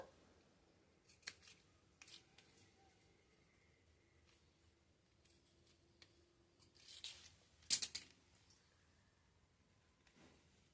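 Scissors cut through blouse fabric in short separate snips, quiet and close, with a louder burst of cutting and rustling partway through and no voices.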